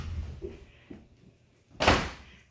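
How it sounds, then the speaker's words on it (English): A bedroom door is pushed shut with a single solid thud near the end, after a few soft bumps and shuffles in a quiet house. "will you go shut the bedroom door so they don't go in the bedroom?"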